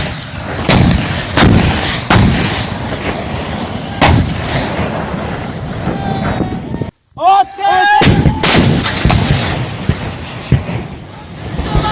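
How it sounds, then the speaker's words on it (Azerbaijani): Army artillery firing on enemy positions in September 2020: a series of heavy, sharp booms at irregular intervals over a rumbling background, with a brief drop-out midway and distant voices faintly under the blasts. "Hal-hazırda ordumuzun artilleriya bölmələri düşməni atəş baskınına tutub."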